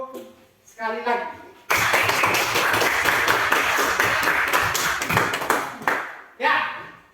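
A classroom group of students breaks into loud, dense applause lasting several seconds, bracketed by a teacher's voice talking before and after.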